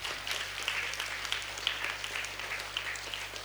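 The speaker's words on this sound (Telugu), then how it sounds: "గట్టిగా చప్పట్లు కొడదాం" Students and teachers at a school assembly give a round of applause, soft and distant, steady throughout, with a low electrical hum running beneath it.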